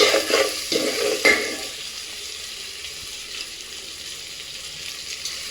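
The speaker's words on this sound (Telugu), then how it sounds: "మనం పచ్చిమిర్చి కూడా ఇప్పుడు వేసుకుంటున్నాం" Green chillies hit hot oil in a pan while cooking coconut milk pulao, with a few loud crackling bursts at first that settle into a steady, softer sizzle close by.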